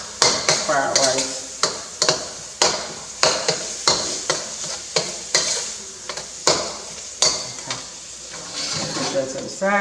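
Eggs sizzling in a hot pan while a spatula stirs them into fried rice, with repeated scraping strokes against the metal in a steady rhythm over a constant frying hiss and a brief voice near the end.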